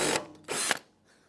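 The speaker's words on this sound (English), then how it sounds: "Take your 5/16 drill bit, put it in this hole, try to hold this in place," Power drill fitted with a 5/16 bit boring into the steel frame of a 1967-72 Chevrolet C10 truck, two short loud bursts of whirring with a brief pause between, close by and without talk.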